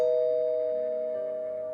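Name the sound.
doorbell ringing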